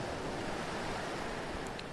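Stormy Pacific Ocean waves surge around a ship in a steady, loud, continuous roar of surf and wind with no pauses.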